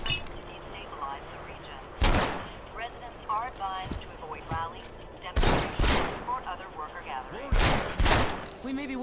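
Gunfire bursts in the open-world game Red Faction Guerrilla, with several loud broadband blasts and volleys spread across the stretch amid game background sounds, and some talk in between.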